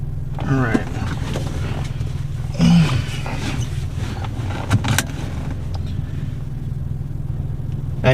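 A car engine hums steadily at a low pitch while driving, with a few brief voice sounds and small bumps over it.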